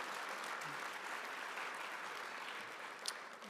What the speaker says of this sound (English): Yeah, worth clapping for.